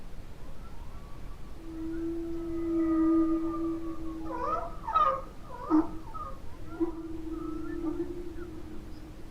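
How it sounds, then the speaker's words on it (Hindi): A whale vocalizing underwater, with long sustained tonal moans that slide in pitch, followed by a few rising whoops and squeals, heard alone over a faint hiss. "ये वेल की साउंड जो आपको सुनाई दे रही है"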